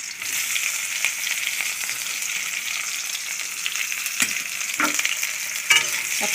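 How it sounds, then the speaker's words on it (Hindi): Chopped onions frying in hot oil in a pan for an Assamese dhekia saag dish, a steady bright sizzle throughout with occasional stirring scrapes and clinks near the end. "अब प्याज को गोल्डन ब्राउन कर लेंगे"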